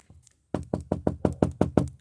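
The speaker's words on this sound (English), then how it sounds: "knock on the window." Eight quick, evenly spaced knocks rap on a window, close and loud, following a brief soft tap at the start.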